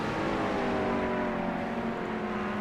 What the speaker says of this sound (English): I love the sound of that McLaren as well.